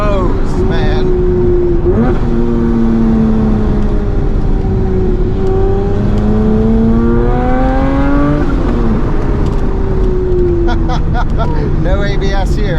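The 500hp engine of a classic Mini revs hard through corners. Its pitch rises and falls in steady sweeps as the car accelerates and backs off, loud and close throughout.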